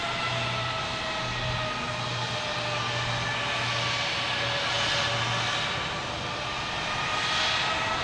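Cape Air plane in a special rainbow-flag livery at Boston Logan Airport, a steady broadband engine drone with faint tonal hum, holding even and fairly loud throughout with no voices.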